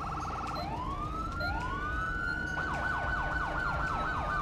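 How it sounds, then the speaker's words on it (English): A police car dual siren from a GTA 5 ELS mod gives long rising and falling wails, then switches to a rapid repeating yelp. It is loud and close, with no talking. "Dual siren."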